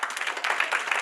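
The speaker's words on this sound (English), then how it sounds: "And a clap for me." Audience clapping at an International Women's Day celebration, a short, dense patter of many hands close by that holds steady for about a second.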